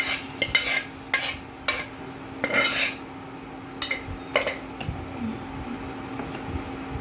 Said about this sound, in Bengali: একটু নেড়ে চুড়ে আমরা বয়েল করার ছোলার ডালটা এখানে দিয়ে দেব এই মিক্সচারে